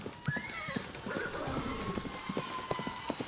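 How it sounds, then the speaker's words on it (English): Horses clip-clopping at a gallop with whinnies and neighs, a steady rhythm of hoofbeats close by, part of a traditional cultural celebration in Ghana's Northern Region, with faint voices in the background. "Gallop on our horses."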